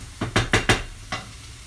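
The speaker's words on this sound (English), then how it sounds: "Just stirring that round." A spoon stirs tuna and tomato sauce in a pan, making four quick scraping knocks in a row and then one more after a short pause. The sounds are close and distinct against a quiet background.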